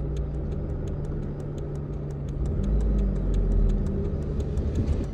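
A car passes along a rural road on an Australian sheep farm, a steady low engine rumble that swells slightly as it goes by, with faint insect-like ticking overhead and no talk.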